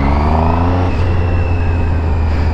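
A new motorcycle engine revs hard, a loud steady roar with a thin high whistle rising and shifting above the deep throbbing exhaust note, close and unbroken.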